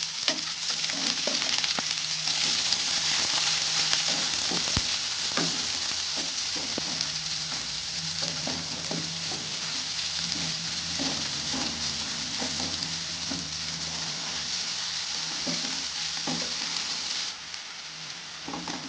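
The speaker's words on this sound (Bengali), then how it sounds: "পেঁয়াজ কাঁচা লঙ্কাটা একটু লাল করে ভেজে" Onion and green chilli frying in a pan, a steady close sizzle with crackling pops and occasional stirring scrapes, continuous and fairly loud with no speech.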